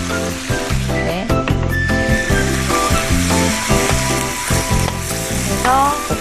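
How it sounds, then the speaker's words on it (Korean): Bean sprouts and pork stir-fried together in a hot pan, giving a loud, steady sizzle and hiss close to the microphone, broken by clattering scrapes and tosses of the utensil against the pan throughout. "얘만 따로 이렇게 볶는데 여기에 설탕도 좀 넣어주고요"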